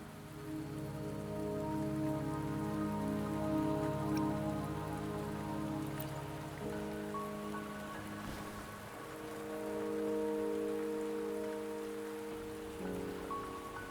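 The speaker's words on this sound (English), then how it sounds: "Don't worry, the rain won't last much longer." Rain falls steadily in the Wuthering Waves video game, a continuous soft patter over a layered low tonal background that shifts midway, moderately quiet with no speech.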